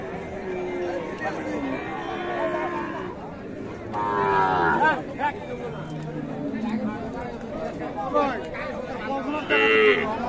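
Sahiwal cows moo repeatedly, some calls long and drawn out, amid a busy crowd of people talking in the background at the Ambari cattle market in Dinajpur, Bangladesh.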